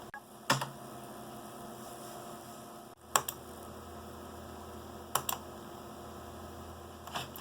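A few sparse, sharp keystrokes on a computer keyboard enter a password while a Mid-2010 Mac Mini is set up, each click standing alone over a low, steady electrical hum.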